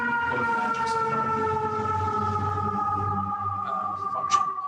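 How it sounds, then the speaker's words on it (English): An emergency vehicle siren sounds outside in New York as a steady, loud, tonal wail that holds throughout, heard from indoors with faint background clatter. "The siren is drowning me."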